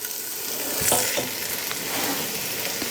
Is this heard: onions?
yes